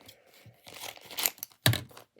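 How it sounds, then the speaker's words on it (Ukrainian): Plastic packet of novelty chocolate-shaped plasters torn open by hand, a close crinkling rip with a sharp loud tear near the end, no talk over it. "Розриваємо пакет."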